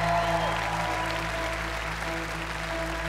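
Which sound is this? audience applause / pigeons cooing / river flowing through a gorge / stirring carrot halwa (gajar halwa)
audience applause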